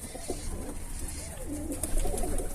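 Pigeons in a coop give soft, rolling coos, overlapping and close, over a low constant background hum.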